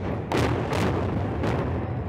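Explosive charges bring down the old I-74 bridge in a demolition, with three sharp booming blasts in quick succession, each a loud broadband crack followed by a rumbling wash of noise.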